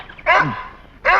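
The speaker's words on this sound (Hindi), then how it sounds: "कुत्ते को खोल दे" A dog that has just been let loose barks twice nearby, loud and sharp, the first bark dropping into a whine before the second.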